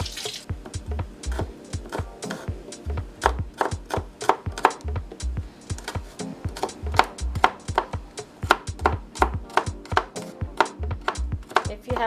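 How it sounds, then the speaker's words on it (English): Garlic cloves being chopped with a knife on a cutting board for Jamaican rice and peas: rapid, fairly loud repeated thuds of the blade, in quick uneven bursts throughout, close up and without voices. "we're gonna chop up our garlic cloves and toss that in there as well"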